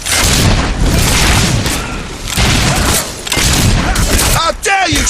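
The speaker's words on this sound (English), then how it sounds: "How dare you shoot at the king's men!" Gunfire and heavy booms from a battle in the video game Fable 3, loud and dense throughout, with shouting voices breaking through near the end.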